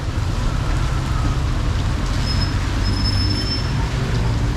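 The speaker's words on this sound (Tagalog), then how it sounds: "lumakas yung ulan" Dense, steady rain hisses and patters continuously, with a low rumbling background like traffic or an engine nearby.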